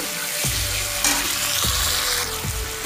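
Spice pastes fry for a brinjal gravy while a utensil stirs them in the pan, a constant loud sizzle punctuated by three evenly spaced scraping strokes across the pan's surface.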